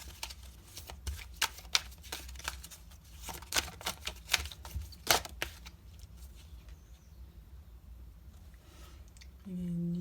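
Odin oracle cards shuffled quietly during a French card reading, sounding as a run of crisp papery flicks and snaps that thin out into a soft hush, with a low hum swelling at the very end.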